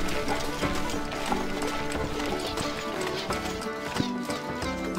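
Horses gallop with rapid, overlapping clip-clop hoofbeats in the medieval strategy game Stronghold Legends, mixed with battle sounds and a brief whinny, continuous and busy throughout.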